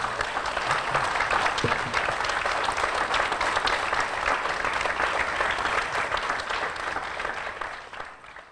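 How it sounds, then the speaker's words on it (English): A studio audience gives a sustained round of applause for guest baseball players, many hands clapping in a thick, even roar that continues for several seconds and gradually thins at the close. "Let's give these great guys a round of applause."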